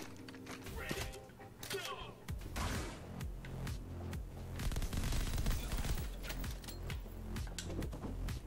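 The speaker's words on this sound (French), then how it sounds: "Je vais prendre la mitraillette." Rapid machine gun bursts rattle through an arcade-style shooter, Mullet Madjack, in dense repeated volleys over a busy game soundtrack, with a voice talking over the action.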